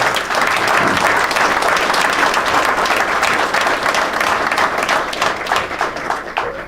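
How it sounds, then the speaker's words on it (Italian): Crowd at the opening of the 61st Valdobbiadene DOCG wine show in Treviso applauding the volunteers, loud dense clapping from many people that carries on steadily throughout, close and full. "io farei un grandissimo applauso ai volontari"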